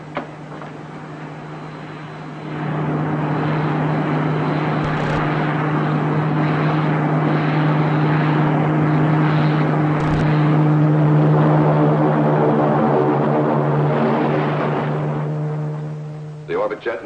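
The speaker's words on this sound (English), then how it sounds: "The Orbit Jet and CM7 and magnetic lock are safely landed, sir." Sound effect of the Orbit Jet spaceship setting down on a landing platform in a space-ranger radio drama: a loud, sustained droning engine hum with a steady low tone that swells after a couple of seconds and fades near the end.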